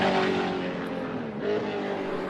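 A NASCAR stock car idles and rumbles at close range as it backs into its pit box, engine tone steady with a slight rise near the end, heard amid busy pit-lane noise.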